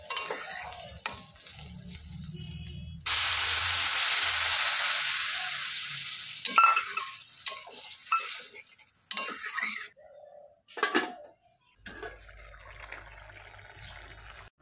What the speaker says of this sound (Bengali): আর তারপরে আবারও কিন্তু ভালোভাবে নেড়ে নিলাম যাতে সমস্ত উপকরণগুলো সুন্দরভাবে কষানো হয়